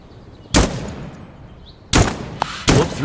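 An M4 rifle fires in the video game Dagger Directive, with three loud, sharp single shots spaced about a second apart, each trailing a brief echo over a quiet room-tone background.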